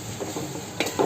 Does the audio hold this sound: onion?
yes